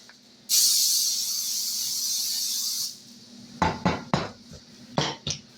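Aerosol cooking spray hisses steadily into a baking dish for about two and a half seconds, close and loud, followed by a few sharp clinks and knocks of dishes being handled.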